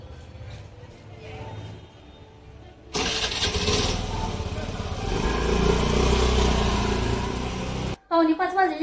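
A vehicle engine cranks and catches about a third of the way in, then runs loudly and steadily before cutting off abruptly near the end. Quieter household sounds come before it.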